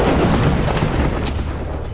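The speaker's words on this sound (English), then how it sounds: "the deadly missile strikes Bismarck's port side on her stern. The violent explosion tears a huge hole in the hull." A heavy, sustained explosion rumbles as a torpedo strikes the stern of the battleship Bismarck, a loud, dense roar filling the whole stretch and fading only slightly toward the end.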